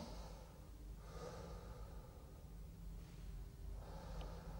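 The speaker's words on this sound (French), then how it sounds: "Respirez profondément." Deep, slow breaths from a patient being examined by a doctor, a few long inhale-exhale cycles, close and steady.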